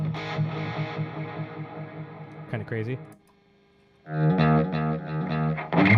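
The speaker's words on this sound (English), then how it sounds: "that distortion you're hearing is the dirty channel of the 5150" An electric guitar plays through the distorted dirty channel of a 5150 amp, with sustained gritty chords, a short pause, then renewed loud crunchy strumming. A voice speaks briefly in the middle.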